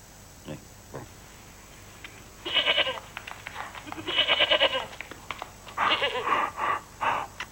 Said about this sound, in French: Sa chèvre.